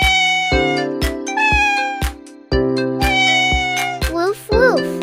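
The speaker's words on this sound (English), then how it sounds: "it's a cat." A cat meows several times, ending in a drawn-out, rising and falling meow, set against bright, bouncy music from a children's animal-names song.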